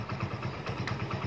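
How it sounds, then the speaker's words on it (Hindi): A motorcycle engine runs steadily at low speed with a regular pulsing throb and some mechanical clatter, fairly close, with no voices. "बड़ी धीरे कर बाइक चला रही है वो"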